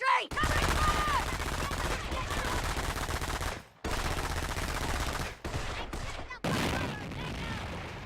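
Machine gun fire in the WWII strategy game Company of Heroes, heavy sustained bursts with dense battlefield noise, broken by brief pauses, with voices mixed in among the shooting.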